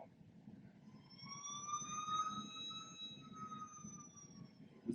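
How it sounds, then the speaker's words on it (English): A police siren wails with rising and falling harmonic tones, moderately distant and steady over a low background rumble for about five seconds, with no voices. "police sirens rang out."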